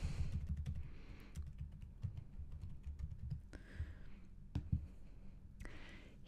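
Group names typed on a computer keyboard during data entry, a steady run of quick, close key clicks over a low background hum, with a few sharper taps standing out, no voices.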